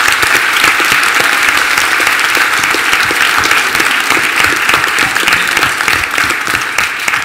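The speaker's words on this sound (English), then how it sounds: "if I can raise a round of applause from you for these guys" A conference audience claps steadily and loudly for several seconds, a dense, even wash of applause.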